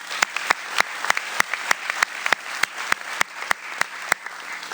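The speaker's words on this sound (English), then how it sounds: "I do want you to give a big round of applause for Brian Weibel." An audience claps at a radio sports awards event: steady applause with sharp, evenly spaced loud claps popping out of the wash, continuous and fairly close.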